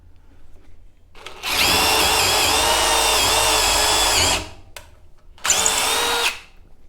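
A cordless impact driver fitted with a drill adapter spins up loudly and runs steadily for about three seconds while drilling, stops, then gives one shorter burst close by.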